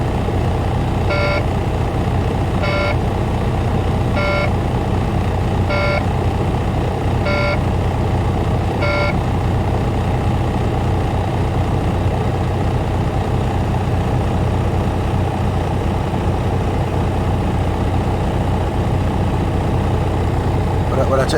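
A Volvo VNL truck idles after a cold start in a blizzard, with a steady low diesel rumble throughout and six evenly spaced beeps near the start.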